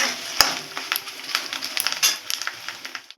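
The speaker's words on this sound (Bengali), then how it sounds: "এবার আমরা পাঁপড়গুলো ভেজে নিচ্ছি" Papad frying in hot oil gives a soft sizzle broken by quick clinks and scrapes of a utensil against the pan, close and fairly busy throughout.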